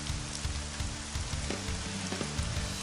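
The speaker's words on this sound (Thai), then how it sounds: "ไหนว่าฝนไม่ตกไง" Rain falling steadily in a cartoon scene, a broad hiss of drops under a low musical hum, with no talking.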